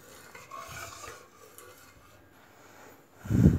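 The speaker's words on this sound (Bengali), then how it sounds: "এখন আমি এটাকে নেড়ে একটু ভালো করে ঘন করে নেব" A spoon stirs thickening custard in a pot for a fruit custard, scraping and rubbing softly and steadily against the metal before one louder clatter at the end.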